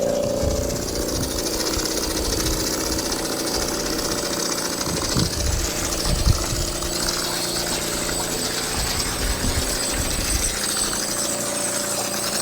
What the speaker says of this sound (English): Turn that compressor on